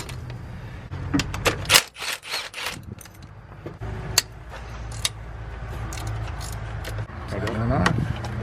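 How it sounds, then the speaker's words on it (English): Steel bolts lifted out of the valley of a 2001-2010 Duramax diesel engine with a magnet, giving close, scattered metallic clicks, scrapes and jingles in irregular bursts. "Use your magnet, pull the bolts out."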